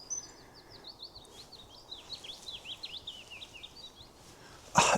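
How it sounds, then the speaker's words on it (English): A willow warbler and a wren sing in woodland, giving a continuous run of quick, high, twittering notes at a moderate distance, with a brief louder burst near the end. "I don't know if you can hear that, but it's a willow warbler, that's a wren."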